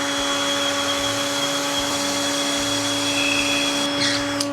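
A vacuum cleaner runs continuously alongside drilling on heavy-duty steps for an RV hauler, a steady whining drone with strong tonal hum, close and loud, with a brief sharper burst near the end.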